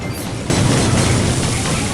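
A powerful shot is fired in the Brawl Stars video game, opening with a sudden loud boom. A dense, noisy crash follows and carries on steadily to the end.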